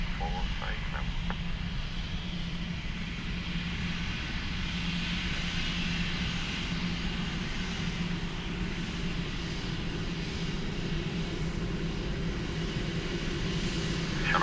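A fixed-wing airliner on approach to runway 28 left at Dublin Airport, its engines a steady, continuous drone at moderate distance, with faint radio-style chatter at the start and no clear peaks across the span.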